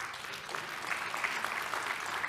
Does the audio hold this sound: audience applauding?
yes